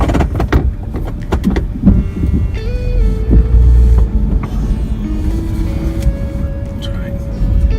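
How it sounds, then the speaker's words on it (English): A pickup truck in four-wheel drive struggles for traction and slides on a slick farm track, a loud close engine rumble and drivetrain whine that shifts in pitch throughout, with someone talking over it. "I'm sliding around quite a bit in the truck. It's kind of hard to get traction, even in four-wheel drive."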